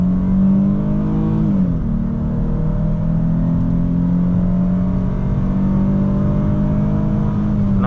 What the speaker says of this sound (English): we are gonna pull out of here and do a little acceleration for you